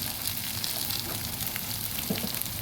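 Raw mustard oil drizzled over cabbage bharta drying in a pan, giving a low, continuous sizzle with faint crackles and an occasional soft stir, close and steady throughout.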